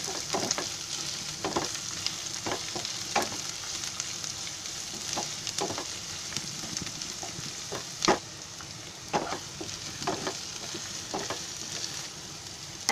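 Onion, ginger, garlic and green chili fry in a small amount of oil, producing a continuous sizzle broken by intermittent sharp clicks and taps of a spoon stirring the pan.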